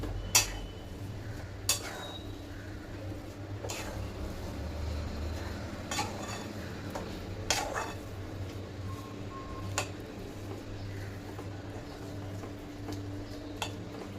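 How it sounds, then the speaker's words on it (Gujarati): Semolina sheera with ground cardamom and nutmeg being stirred in a pan, with sporadic sharp clinks of a spoon against the metal over a low steady stovetop hum, no talking. "આવી રીતે બધું મિક્સ કરી દઈશું જેથી એલચી અને જાયફળનો ભૂકો બધા સાથે એકત્રિત થઈ જાય."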